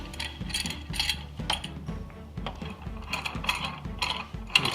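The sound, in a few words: clamp being tightened to secure wood to a bench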